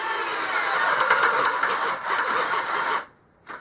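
A Hyper Tough cordless drill drives a 1-inch speed bit into pressure treated wood, a loud continuous whirring grind that strains, briefly dips, then cuts out abruptly before a short restart.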